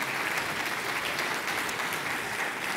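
Warm audience applause for award winners at the GAA Champion 15 awards at Croke Park, a steady, even wash of many hands clapping throughout, fairly distant and without talk.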